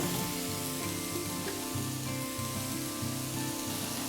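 Broccoli goes into a pan of vegetables cooking for a veg stroganoff, and a steady, busy sizzle of frying fills the whole stretch without pause, with no talk.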